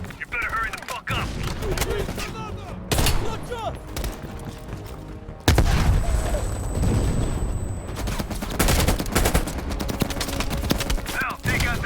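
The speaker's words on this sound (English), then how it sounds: "Heavy MG on the ridge!" Heavy machine gun fire in Call of Duty: Black Ops Cold War, sustained dense bursts of rapid gunfire with booming impacts, loud and continuous, mixed with battle noise and voices talking over it.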